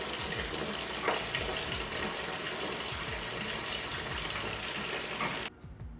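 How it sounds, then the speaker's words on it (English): Tap water gushing steadily into a bathtub as it fills, a continuous loud rushing and burbling stream that cuts off abruptly near the end. "we're just gonna fill up this tub"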